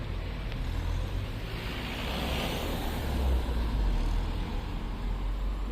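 Cars pass on a roadside in the early evening, a steady broadband traffic rumble that swells as vehicles go by, heard close with no talk.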